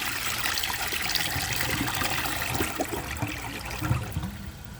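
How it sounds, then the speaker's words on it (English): A round-bowl 2007 Crane Elite front-flush toilet flushes with a steady rushing wash of water and trickling refill, moderately loud and continuous throughout with no talking. "I'm going to wait for the tank to fill back up and then flush it again."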